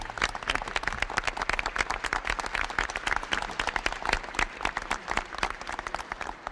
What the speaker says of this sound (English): let's all give a round of applause for our National Guard.